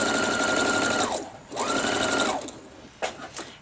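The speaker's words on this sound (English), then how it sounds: "Sew that scant 1/4 inch." A sewing machine runs a scant quarter-inch quilt seam in two steady humming bursts about a second each, close up, followed by a few short clicks and handling sounds.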